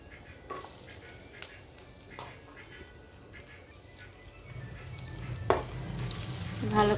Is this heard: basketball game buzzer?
no